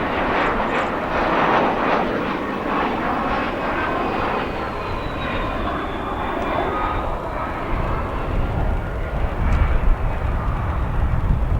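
A United Embraer regional jet roars at O'Hare International Airport, its broad engine rumble and rising whine sustained and loud throughout, growing a little heavier toward the end.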